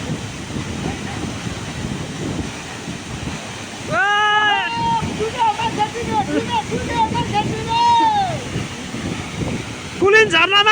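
The Semthan waterfall keeps up a steady rushing roar in the background while people talk and call out loudly over it through much of the scene.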